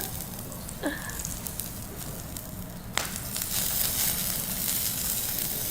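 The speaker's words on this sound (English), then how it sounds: "Listen to the sizzle." Steady sizzling and crackling from broccoli searing in olive oil in a hot pan, a continuous hiss that grows slightly louder partway through, with a sharp clank in the middle.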